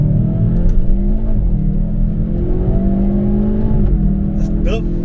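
Two-litre four-cylinder engine of a Hyundai i30N with DCT, heard from inside under acceleration, a steady droning hum with rising and falling tones as gears shift, loud and continuous beneath someone talking.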